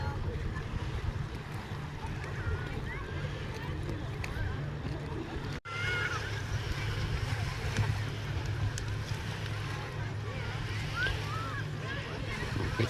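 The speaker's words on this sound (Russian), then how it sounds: "Катера." Motorboats hum on the river at a crowded, newly renovated city beach in Yakutsk on a hot day, a low steady engine drone under wind and distant water, with voices nearby.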